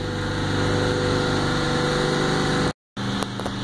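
A Zamboni ice resurfacer's engine idles with a steady, close, unbroken rumble and whine, briefly cut out for a moment near the end before resuming; no one speaks.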